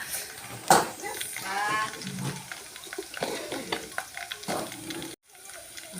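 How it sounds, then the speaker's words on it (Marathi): Garlic paste frying in a hot pan for a Vidarbha-style potato curry, a steady close sizzle with scattered crackles and a few clinks, running for several seconds before briefly dropping out near the end. "बघा कसं लसण होत आहे मस्त लसणाची पेस्ट टाकली"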